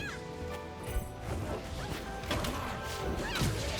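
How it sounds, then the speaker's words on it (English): Glass-like shield-hit crashes from the fighting game Rivals of Aether sound as a few sharp, bright impacts over a busy, quieter bed of game sound. "I love the glass noises when someone hits shield with multiple hits"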